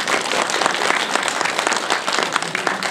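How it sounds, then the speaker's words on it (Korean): A cinema audience at a film screening Q&A claps together, a dense, loud, continuous burst of hand clapping with a crisp, busy texture close by, no voices over it. "오늘 극장에서 한번 다 같이 박수를 한번 드리면 좋을 것"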